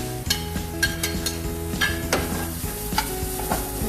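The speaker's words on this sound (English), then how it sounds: "First off, we'll be putting smoked bacon into a hot pan." Smoked bacon sizzles loudly and steadily in a hot pan, with occasional stirring scrapes and no talking.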